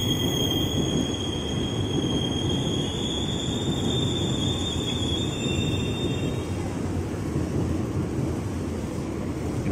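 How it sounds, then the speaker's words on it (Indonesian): A Tokyo Metro 6000 series commuter train, ten cars bound for Bekasi, rolls into platform 8 at Manggarai station with a loud, continuous rumble and a high sustained whine that fades partway through. "Dia masuk di jalur 8, Tokyo Metro seri 6000, 10 kereta komuter lain tujuan Bekasi"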